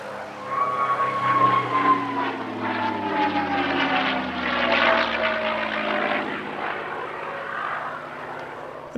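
A P-51 Mustang propeller warbird flies an airshow display at Midlands Air Festival, its engine droning steadily and shifting in pitch as it sweeps past at moderate distance, loudest midway through the pass.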